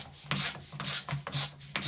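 Ratcheting turns of a long 27 mm socket driving an old screw while removing a CV joint, a close, rhythmic series of rasping scrapes in short bursts with no talk.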